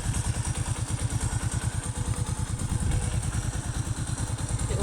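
Lexmoto motorcycle engine running after a cold start: a steady, rapid thumping idle with mechanical clatter, close and constant throughout, no voices.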